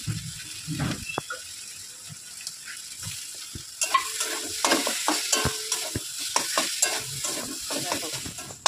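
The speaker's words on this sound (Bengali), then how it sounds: "এটা অনেকক্ষণ ধরে এইভাবে নাড়াতে হবে, এইভাবে চেপে চেপে নাড়াতে হবে" A spoon stirs and presses mashed flat beans in a hot pan, sim ghonto, with soft scraping and squishing strokes over a low sizzle, irregular and close, growing busier and louder in the second half.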